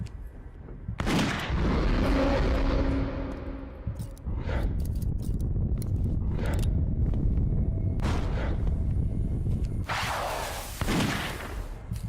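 Gunfire in the video game Witch Hunt: loud booming shots and bursts, several sharp blasts separated by short gaps, with echoing tails and a swishing sound near the start.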